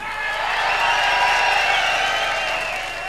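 Live studio audience at a 1986 NDR radio circus show in Helmstedt applauding a contestant: steady, dense clapping and crowd noise, fairly loud, sustained throughout without a break.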